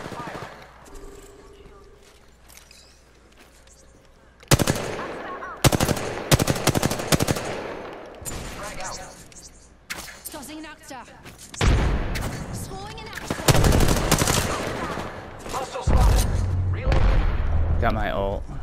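Apex Legends gunfire erupts in heavy automatic bursts and single loud shots, near and harsh, clustered in dense volleys after a quieter opening with a voice talking underneath.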